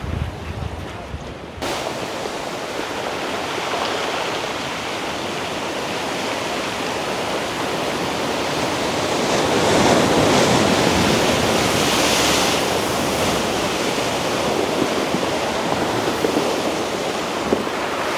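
Water rushes and washes steadily over large pebbles on South Africa's Garden Route, a continuous broad roar that swells slightly midway, with some wind noise.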